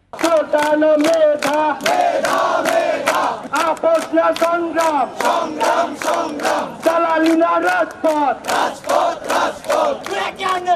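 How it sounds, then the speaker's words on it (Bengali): Protesting students chanting slogans on a road, a loud crowd of voices shouting in a strong repeated rhythm, call after call close and continuous throughout. "স্লোগানে স্লোগানে ফেটে পড়েন শিক্ষার্থীরা।"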